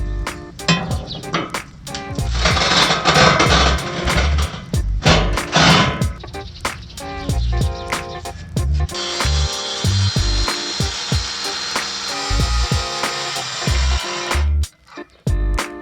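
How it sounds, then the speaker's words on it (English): A 60-volt grinder cuts through metal pieces, loud and close. A dense rattling stretch is followed by a sustained harsh whine, then sharp knocks and a short pause near the end. "I say that 60-volt grinder is pretty impressive."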